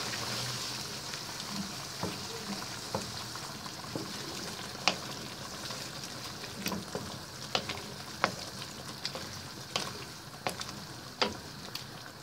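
Beef kaldereta stew with peanut butter simmers and is stirred in a pot, a steady bubbling hiss broken by frequent small clicks and taps of the spoon, close and moderately quiet without talk.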